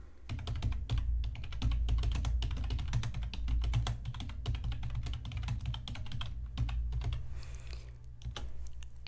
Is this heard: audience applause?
no